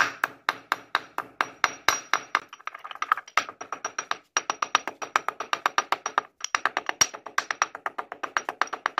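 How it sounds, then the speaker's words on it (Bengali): Three pieces of cinnamon stick pounded in a mortar and pestle, a fast, steady run of sharp, hard knocks close by, with a brief grinding pause partway through. "এবারে এগুলিকেও হামালদিস্তার সাহায্যে একটু গুঁড়ো করে নেব"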